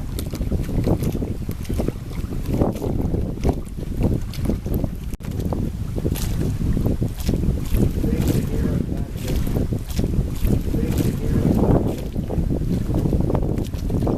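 Sailboat drawing away from the Connecticut shore, a steady rush of wind and water around the hull with gusty microphone buffeting, continuous and fairly loud throughout.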